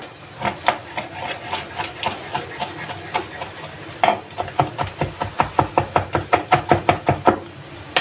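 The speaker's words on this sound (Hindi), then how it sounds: "ये मिर्चें जो थी उनको भी चॉप कर लेते हैं" A knife chops peeled tomatoes and chillies on a board for Turkish eggplant chutney, with steady rhythmic knocks that speed up into a quick, even run in the second half, close and clear.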